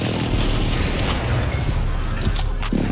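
Sticky grenade blast in Call of Duty, a loud booming explosion with rumbling low end filling the moment, close and harsh, with game noise trailing.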